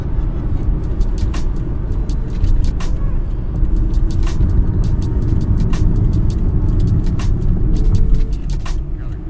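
A 2006 Lexus GS300 sedan drives up a ramp, its engine rumbling loud and close with steady road noise and intermittent clicks and knocks throughout.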